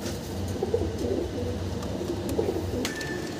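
Low, soft cooing of a male fancy pigeon rolls on steadily, a continuous murmuring coo with a faint high tone near the end.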